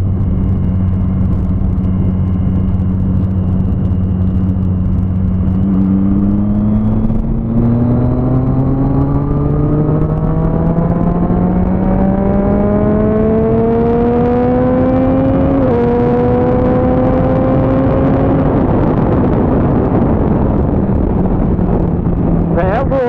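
A motorcycle rides through heavy city traffic, its engine droning and rising in pitch through several gear changes, with close wind buffeting on the microphone the whole time.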